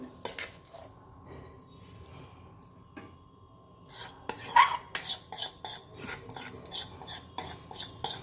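A metal spoon serves bitter gourd pitlai into a dish, clinking and scraping against it in a quick, uneven run of close knocks after a quieter start.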